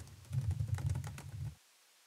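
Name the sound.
typing text on a computer keyboard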